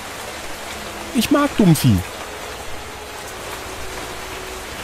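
Steady rain falls in the video game Life in the Woods, a soft continuous hiss that runs through the whole stretch while a person speaks briefly over it near the start.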